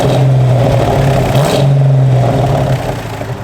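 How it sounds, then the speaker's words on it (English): A 1970 Dodge Challenger Convertible's engine revving loudly and close, a steady throaty drone with a brief dip and swell midway, then easing off toward the end. "Give it a little rev."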